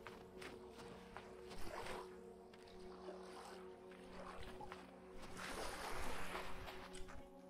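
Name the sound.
creepy water noises in the video game Vintage Story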